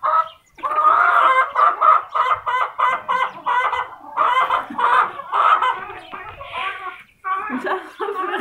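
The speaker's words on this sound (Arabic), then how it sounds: "مش عارفه الفراخ دي مالها النهارده، لانها عارفه ان انا بصوت" Chickens cluck loudly and close by in rapid, repeated bursts with brief gaps, an agitated flock calling almost continuously.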